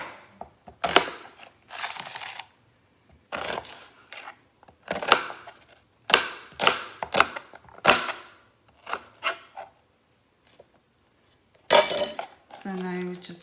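A knife slices a halved onion on a cutting board for a tomato and goat cheese salad, giving irregular close knocks and chops in bursts separated by short pauses, with a brief clatter near the end.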